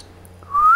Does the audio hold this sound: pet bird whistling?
yes